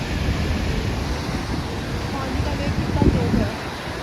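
Fast-flowing, milky-white river water near Mana village, India, rushes with a constant broadband roar, steady and close, with gusty wind noise over it.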